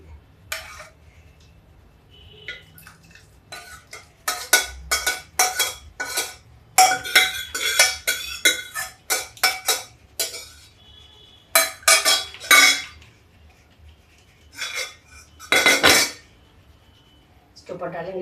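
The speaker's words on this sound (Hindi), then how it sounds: "देखिए ये छोला मैं सर्व कर रही हूँ।" Chickpea chole is served into a dish with a busy run of metal ladle clinks and scrapes against pots and plates, coming in rapid bursts with short pauses, close and clear.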